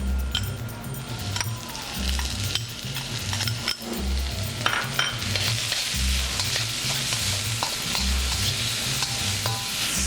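Pork stir-fries with ginger in a hot pan, giving a steady loud sizzle punctuated by the regular scrape and clink of a utensil tossing the meat, with no talking.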